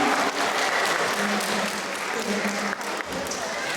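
Audience applauding steadily at a sea lion show in a UK safari park, a dense sustained wash of clapping from a crowd that holds nearly even for the whole stretch.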